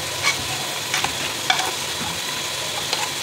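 Mashed tomatoes fry in a pan, a steady sizzle broken by several sharp stirring scrapes and clinks. The sound stays close and holds at an even level, with no voices.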